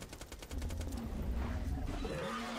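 A modded Hyperion SMG in Borderlands 2 fires a fast, evenly spaced stream of shots. A deep roaring, droning sound then swells underneath and carries on after the shots fade.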